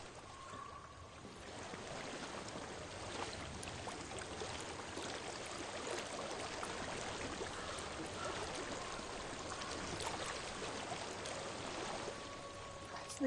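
A steady, gentle rush of flowing stream water fills a misty outdoor scene in Hellblade: Senua's Sacrifice, a continuous soft wash with faint trickling detail and no talk.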